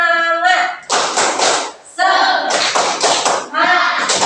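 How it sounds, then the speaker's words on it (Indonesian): A classroom clapping game, the Indonesian 'tepuk semangat' cheer led before a lesson: loud, close rhythmic bursts of group clapping that alternate with chanted voices in a call-and-response pattern. "sebelum memulai pelajaran, kita tepuk semangat dulu, ya. Tepuk semangat."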